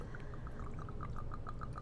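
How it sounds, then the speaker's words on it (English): Vodka poured from a bottle with a pour spout into a jigger, a faint, quiet trickle with a rapid run of small bubbling glugs, heard alone without talking. "Put your pour spout in, grab your jigger, and we're going to pour a polite"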